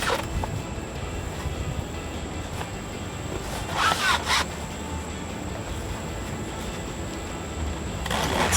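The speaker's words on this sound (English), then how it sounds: "So I'm going to start with the zipper down here." A zipper on a Jeep Wrangler TJ roll bar pad kit being worked during installation, heard as short raspy zipping bursts over a steady noisy background, fairly close.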